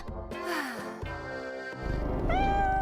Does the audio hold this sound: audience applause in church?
no